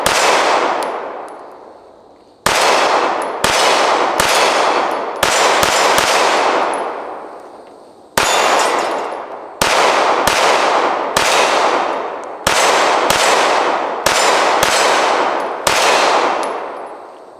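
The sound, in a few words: Tisas PX-9 pistol firing 115 grain Blazer FMJ rounds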